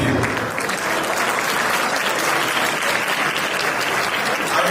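A convention crowd at the AAPI-QLI annual gathering breaks into big, sustained applause for its volunteers, a loud, unbroken wash of clapping that fills the hall from start to finish.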